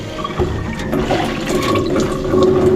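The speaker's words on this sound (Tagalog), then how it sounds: "Yun, may tubig na tayo sa bomba natin." Water gushes from a newly relocated water pump in a strong, continuous rushing flow, close and loud, splashing and churning throughout with no talking over it.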